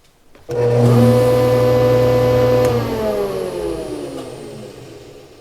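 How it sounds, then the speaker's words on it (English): A MiniMax CU300 jointer spins up with a sudden loud motor whine and steady high hum after fresh knives are fitted, then the tone drops as it coasts down toward quiet. "Once all 3 knives have been replaced, simply run the jointer to lock them in place."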